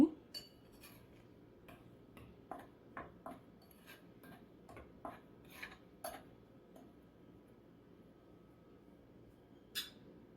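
A spoon mixes chili powder, salt and garlic powder in a small bowl, making scattered faint clinks and light scraping taps in a quiet room.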